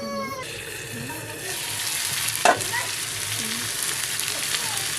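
A spatula presses spice paste into a hilsa fish head in a hot pan, with steady broadband frying sizzle and a few soft scraping strokes, one sharper clack near the middle; a voice speaks faintly beneath it.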